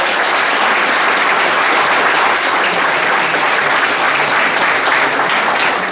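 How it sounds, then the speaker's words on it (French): A hall audience at a volunteer appreciation evening breaks into loud, sustained applause, dense clapping holding steady and close for several seconds. "Une bonne main d'applaudissements."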